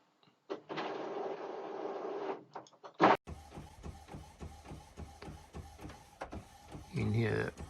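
Sublimation printer printing an image: a whirring motor run, then a thump, followed by rapid rhythmic mechanical chattering and clicking of the print head moving back and forth, with brief voices over it.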